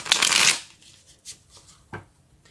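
Tarot cards shuffled by hand in a quick, loud riffling burst, followed by a few softer card taps and slides, with no talking over it.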